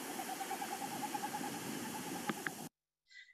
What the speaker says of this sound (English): the vibration of their tail feathers creates a winnowing noise